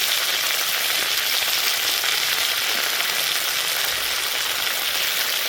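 Tomato with ginger paste and chili paste fries in a pan, a steady loud hiss and sizzle of oil throughout, with no talking.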